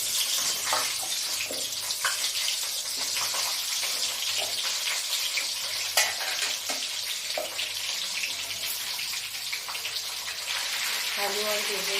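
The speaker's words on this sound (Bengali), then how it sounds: "আলু আর বেগুন দিয়ে একটু ভাজা ভাজা করে নিতে হবে প্রথমে।" Potato and brinjal fry in a pan, a dense continuous sizzle and hiss at steady loudness with occasional small clicks and pops throughout.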